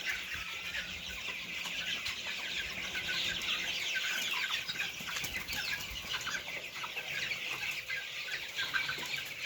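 Broiler chickens clucking and squawking on a poultry farm, wings flapping as one bird is caught, a steady busy flock chatter running throughout with no talking.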